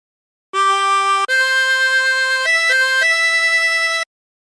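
Harmonica playing a phrase of Amazing Grace with bent notes, a handful of clean sustained tones stepping between pitches, close and steady, with no talking.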